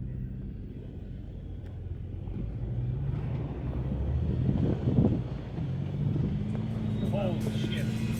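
A 20-year-old mall-crawler SUV grinds off-road through a trench, its engine a low, steady rumble that swells midway, with wind buffeting and people talking over it.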